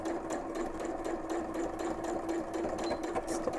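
A sewing machine back-tacks through three layers of a skirt vent, a close, steady, rapid mechanical chatter with an even pulsing rhythm that runs throughout.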